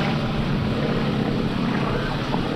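A Nanchang CJ-6A propeller airplane flying overhead during a 2003 airshow, its engine a steady, loud droning roar that holds constant without break.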